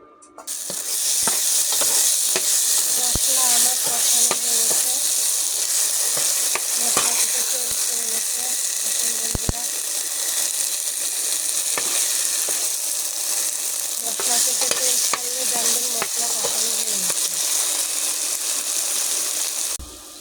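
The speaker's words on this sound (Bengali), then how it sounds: "এবার আমি একটু নেড়ে দেব মশলাগুলো ভালো করে কষিয়ে নেব" Steady, loud sizzling of ground spices, including turmeric, frying in a wok for a silver carp curry, with scraping and clinking of a spoon stirring throughout.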